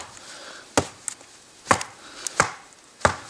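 Survive Knives GSO 10 blade batoned through dry wood: five sharp woody knocks at uneven intervals, close and crisp over a quiet outdoor background, with no voices.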